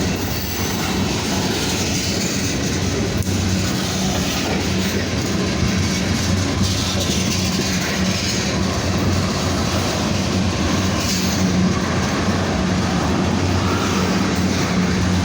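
A Wisconsin Central freight train rolling past close by, a continuous loud rumble of wheels and cars with squealing and clickety-clack, no talk.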